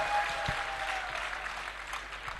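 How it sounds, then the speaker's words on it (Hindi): Applause from an audience responding to a performer: a brief burst of clapping, moderately loud and fairly distant, with a faint tone ringing in the background. "एक बार तालियां होनी चाहिए आपकी जोरदार"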